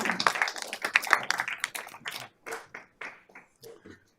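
Audience applause at a borough council meeting, scattered and uneven at first, then thinning into a few separate, fading claps before silence.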